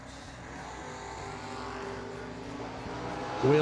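A 1966 Chevy II drag car from Tonawanda, New York launches down the strip at a drag racing event, a steady loud engine roar building through the run with a sharp surge at the very end.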